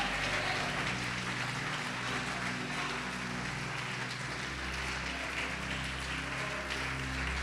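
Faint, distant applause from a church congregation praising Jesus during a sermon, a steady, even patter of many hands over a low electrical hum.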